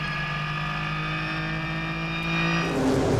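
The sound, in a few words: Renault Sport Trophy race car engine at race start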